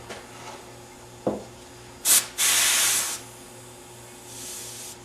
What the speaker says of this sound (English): spray some York Gray Pad Gray on a slight angle